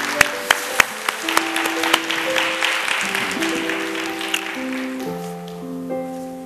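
A church audience claps throughout for a children's choir, a dense patter of applause with a few sharp claps, while sustained organ-like tones play beneath it.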